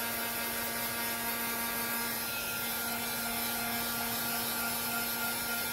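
A heat embossing tool runs steadily with a constant hum and airy whir, close and unbroken throughout, with no talking, while it warms up for embossing on vellum during card making.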